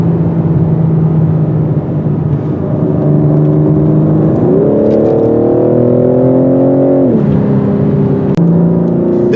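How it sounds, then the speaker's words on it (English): A 2021 BMW M4 Competition with a turbo engine climbs a mountain road, its exhaust growling steadily and rising in pitch as it accelerates, then easing back, heard continuously from inside with no talking. "The exhaust has a nice growl coming out of the pipes."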